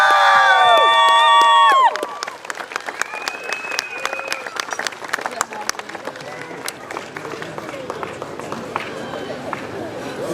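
Airshow crowd applauding a Royal Marines unarmed commando display team: after a loud burst of music and shouting, a broad outdoor patter of clapping continues for several seconds, with scattered cheers and voices in the crowd.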